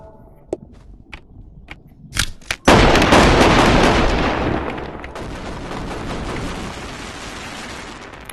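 Revolver fire in the Animal Company video game. A few sharp clicks and snaps lead into a loud blast that dies away in a long, rumbling decay, followed by a steady wash of noise. No voices.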